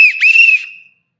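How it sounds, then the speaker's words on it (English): A single short, sharp blast on a whistle, loud and close, with a shrill tone that wavers briefly before trailing off into silence. "Blow the whistle."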